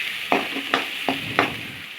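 Turmeric stirred into a frying tomato egg curry in a pan, steady hissing sizzle punctuated by four sharp spoon scrapes against the pan, close and loud with no talk.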